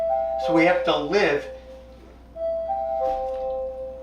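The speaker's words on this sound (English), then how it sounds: "That's our doorbell" A home doorbell chimes a few sustained tones under and after a man's speech, clear and moderately loud indoors.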